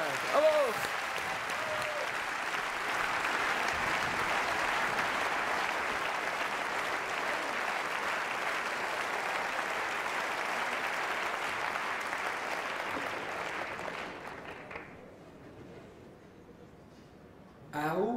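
A TV humour-festival audience gives a long, steady roar of applause for a Polish music group, dense clapping sustained for about fourteen seconds before fading to near silence, then a brief voice.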